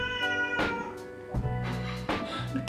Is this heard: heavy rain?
no